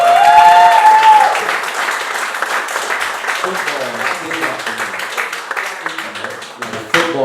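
Applause and cheering from the audience at a live DEFY Wrestling podcast taping in Seattle, loud and sustained, with a voice shouting over the crowd at the start.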